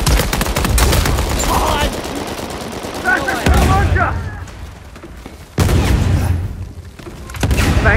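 Heavy combat in Uncharted 4, with sustained automatic gunfire and booming rocket-launcher blasts, loud and close, punctuated by sudden heavy impacts and short gaps, with voices shouting over the action.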